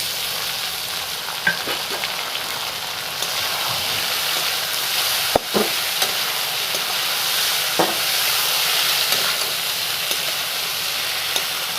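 Kochur loti and jackfruit frying in oil with reddened garlic, cooked outdoors, give a loud, continuous sizzle with occasional spoon knocks and scrapes against the pan.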